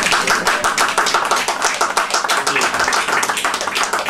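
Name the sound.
audience applause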